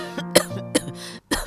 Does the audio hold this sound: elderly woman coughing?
yes